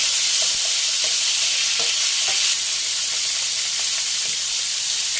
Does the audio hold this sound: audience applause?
no